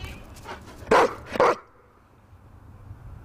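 Two loud dog barks in quick succession, close by, followed by quiet room noise.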